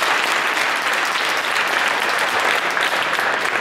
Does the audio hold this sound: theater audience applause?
yes